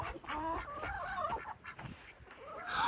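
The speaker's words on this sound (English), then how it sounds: "and look, these are our chickens." Backyard chickens cluck and murmur nearby in a steady, overlapping stream of short, rising and falling calls with no talk over them.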